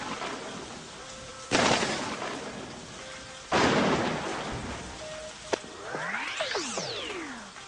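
In the video game Mimpi, two lightning strikes each crack loudly and fade into rolling thunder over a steady rain-like hiss, followed by a sharp click and sweeping chirpy game effects. No one speaks.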